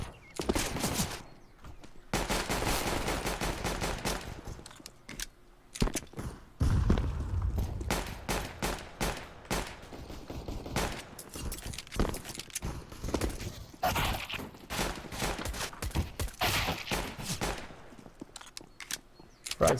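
Frag grenades and gunfire in a Counter-Strike match, dense bursts of shots and heavy blasts crowding together, loud and close, with brief quiet gaps between volleys.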